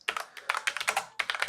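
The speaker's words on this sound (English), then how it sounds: "I'm just going to start typing like," Fast typing on a computer keyboard, a quick irregular run of crisp close key clicks in bursts with short pauses, heard alone without talk.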